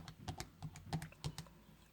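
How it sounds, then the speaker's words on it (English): Fingers tap calculator keys while entering a division problem, with about a dozen quick, light clicks in an uneven rhythm, close and quiet with no talking. "we're going to use the calculator. You type in 27 divided by 9"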